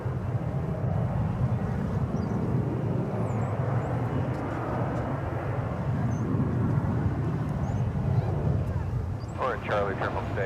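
An Envoy airliner takes off from runway 18 left, its jet engine roar a steady, broadband rumble that holds strong and continuous throughout, with faint bird chirps and a brief voice near the end.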